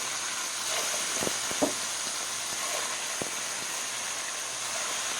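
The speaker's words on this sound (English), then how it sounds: "We want a nice sizzle when we put the steak into the pan." A soft, steady sizzle of steak searing in a hot oiled pan, with a few faint knocks and clinks over the hiss.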